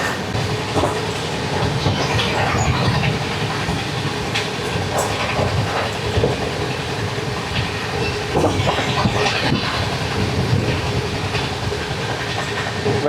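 The Magadh Express passenger train runs at speed on the main line, heard from inside as a loud continuous rumble with rhythmic clickety-clack of wheels over rail joints.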